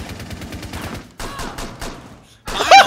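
Bursts of gunfire in Rainbow Six Siege, with fast rattling volleys broken by short silences and a sharp, loud burst near the end, with no voices over it.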